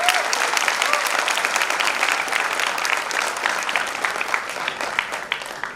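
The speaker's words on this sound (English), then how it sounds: "Can we have a huge round of applause for him?" A dense, steady round of audience applause fills a speakers' event celebrating Sindhi culture and philanthropy, a sustained wash of many hands clapping at once with no break.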